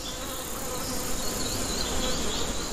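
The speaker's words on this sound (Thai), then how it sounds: "แมลงวันติดอยู่ในอาหารที่ร่วงลงพื้น" Flies buzz steadily around rotting fallen fruit on a forest floor in Iberia, a soft, continuous close drone with no voices.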